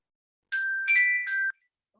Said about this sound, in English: The bell, the official bell